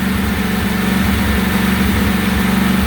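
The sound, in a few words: Briggs & Stratton replacement engine running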